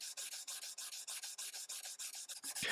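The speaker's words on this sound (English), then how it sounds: "I'll follow this up with 400 and then 800 grit sandpaper to get the frets" Bass guitar frets being sanded with fine 400 to 800 grit sandpaper, a close, steady back-and-forth rasping in even rhythmic strokes, about a dozen quick passes with no talking.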